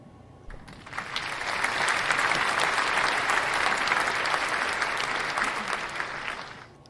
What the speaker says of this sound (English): I just can't get enough of that applause thing.